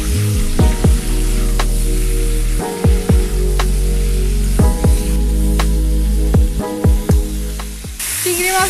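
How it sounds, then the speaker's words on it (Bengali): Ridge gourd and potatoes frying in a pan before prawns go in, a loud, close, steady sizzle punctuated by repeated utensil scrapes and knocks at irregular intervals. "আলু ঝিঙে প্রায় ভাজা হয়ে গেছে আমি এবার চিংড়ি মাছগুলো দিয়ে দেবো"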